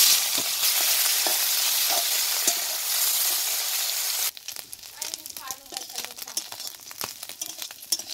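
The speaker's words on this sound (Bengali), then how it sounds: "পুঁটি মাছ আমি ভেজে নেব।" Puti fish frying in hot oil in a wok, a loud steady sizzle that drops after a few seconds into crackling, spattering pops.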